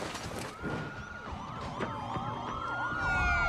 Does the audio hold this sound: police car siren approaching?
yes